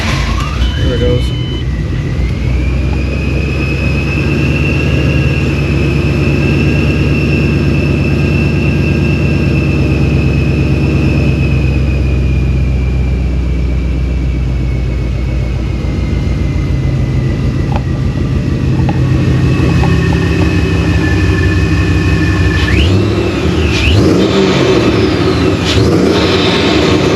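A procharged Ford Mustang GT engine runs loud and steady after starting, its supercharger whine holding a sustained high tone before shifting near the end, with a deep rumble underneath.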